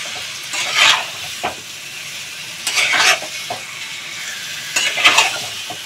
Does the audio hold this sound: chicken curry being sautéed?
yes